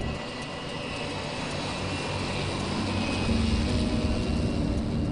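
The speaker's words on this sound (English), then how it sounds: "This is the moment most passengers are paying for, the takeoff. Half speedboat, half plane." A seaplane's engines roar steadily through its takeoff run on the water, a loud continuous drone that swells slightly toward the end with no speech over it.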